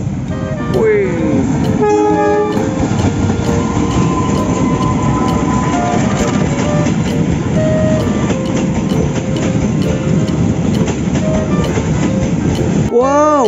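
Toy CC203 locomotive running steadily and loud, with short horn toots near the start and end, under excited talk.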